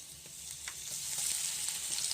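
Garlic cloves fry lightly in oil for a shrimp gravy, giving a steady close sizzle with soft crackles and occasional stirring clicks, with no talking.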